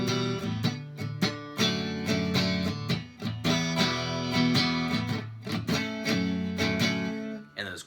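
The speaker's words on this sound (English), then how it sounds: "try practicing your chord changes, no matter how long they take or how bad they may sound" An acoustic guitar strums chords in a steady rhythm, with a few uneven, slightly ragged chord changes and brief dips between strums.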